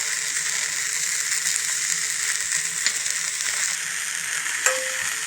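Food frying in a pan with pink salt being added, a steady bright sizzle with occasional stirring scrapes and a sharp clink near the end, no talking.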